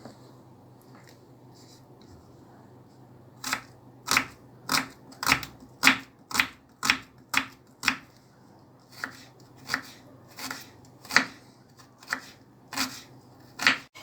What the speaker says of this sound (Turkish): bir baş soğanımı minik minik doğrayarak başlıyorum